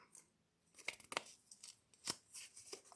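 A handmade paper card pack is torn open in a few short, sharp rips and crinkles, close and quiet, with brief pauses between tears.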